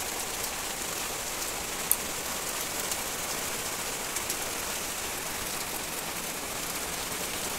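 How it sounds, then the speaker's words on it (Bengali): Steady rain falls in a dense, even hiss at moderate volume, with an occasional drip standing out and no voices. "বৃষ্টি পড়ছে।"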